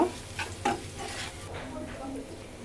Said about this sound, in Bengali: 4টি এলাচ, 4টি লং, 3 টুকরো দারচিনি দিয়ে আমি ভালোভাবে নাড়ব।